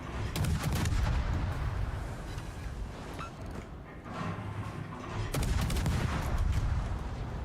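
Warship secondary battery guns fire in a naval video game, producing dense, overlapping booms and rapid volleys that stay loud throughout, with a second surge of salvos near the end.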